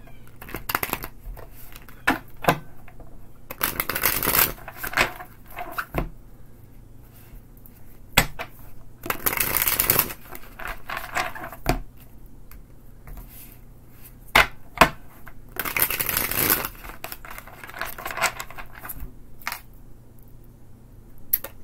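Tarot cards are shuffled by hand in three main bursts of rustling, riffling noise, each a second or two long, separated by quieter stretches with scattered taps and handling sounds.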